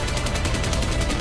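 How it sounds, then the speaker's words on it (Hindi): Sailors aboard a British ship fire rifles at attacking Argentine A-4 Skyhawk aircraft, a dense, continuous rattle of rapid gunfire sounding close and loud throughout. "आखिरी प्रयास में पूरे जहाज के नाविक राइफल उठाकर गोलियां चलाते हैं।"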